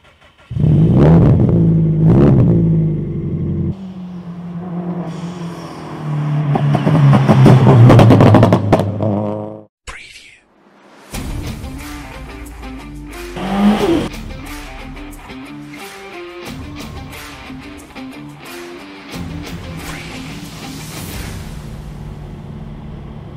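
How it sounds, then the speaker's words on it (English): Subaru STI with a very loud Trust exhaust, revving hard in bursts, then idling with a lumpy burble and further blips; close and loud, no talk. "exhaust by Trust, so it makes a crazy very loud noise that I think a lot of car lovers love"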